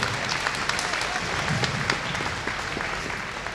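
Sustained crowd applause for a horse at a riding clinic in an arena, a dense continuous patter of many hands at moderate level.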